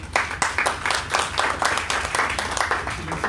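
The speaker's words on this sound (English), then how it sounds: "Let me call this meeting to an end with another round of applause" An audience at a formal talk on the Australia–India relationship bursts into sustained applause, dense overlapping claps filling the room steadily for several seconds with no speech over it.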